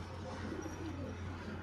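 Brief, faint cooing of pigeons in a shop, a low warbling call or two over a steady background hum.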